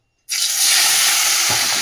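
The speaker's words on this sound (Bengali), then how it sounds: "তেল তো গরম হয়ে গেছে, পাবদা মাছগুলো দিয়ে দেবো" Pabda fish dropped into hot oil sets off a sudden, loud burst of sizzling that holds as a dense, steady crackle to the end.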